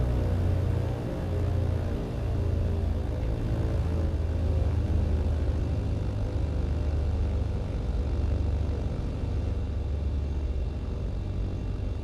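A propeller airplane engine in Microsoft Flight Simulator 2020 drones steadily and loudly, a continuous low rumble with a constant tone throughout and no talking over it.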